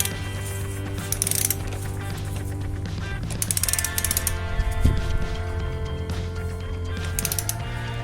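A ratchet tightens the lower engine mounting bolt on a Yamaha FZR 1000 EXUP, giving short bursts of fast clicking close by. Faint metallic knocks and a steady low hum sit underneath.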